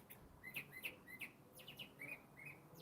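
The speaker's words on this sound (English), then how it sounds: "Birds." Small birds chirping outdoors, a string of short bright tweets repeating at irregular intervals, faint and somewhat distant over a quiet background hiss.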